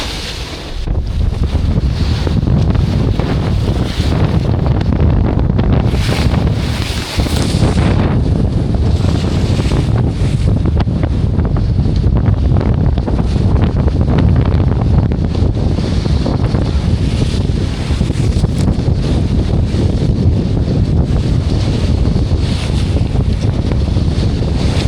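Strong wind of 20 to 25 knots buffets a Contessa 26 sailboat beating into the Bristol Channel, a loud continuous roar of gusts and microphone rumble over rushing water and waves, with no voices.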